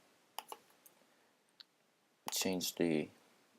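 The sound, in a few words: computer mouse double-click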